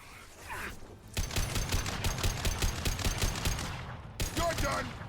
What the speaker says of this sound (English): Shit, I'm being shot at. Damn, Jack going in with the shotgun.